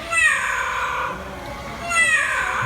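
A bird at a bird show mimics a cat's meow, two drawn-out whiny calls separated by a brief lull, clear and fairly close.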